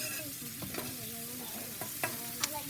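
Coarsely cut long-way onions sizzle on a hot soapstone slab in a Big Joe grill, a soft steady crackle broken by a few sharp scraping stirs, fairly quiet and close.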